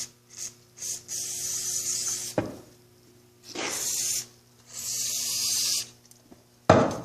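Brake and parts cleaner sprays into the carburetor of a weed trimmer in three long hissing bursts, close and loud, with short gaps and a sharp clunk between them.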